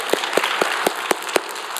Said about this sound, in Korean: 하나님께 영광의 박수합니다